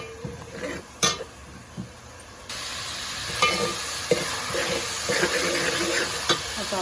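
Green peas in a paste of green chili, garlic, ginger and coriander sizzle steadily in a pan while roasting, with a few sharp clinks of a spoon against the pan.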